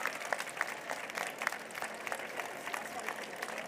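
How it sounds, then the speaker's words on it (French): An audience applauds children and teachers at a regional reading competition final, a soft, steady patter of many hands clapping heard from a distance, with faint crowd murmur underneath. "On applaudit les enfants"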